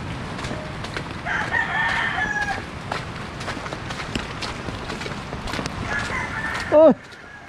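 Chickens cluck and scratch around nearby, with a short rooster crow near the end; footsteps and faint background activity throughout.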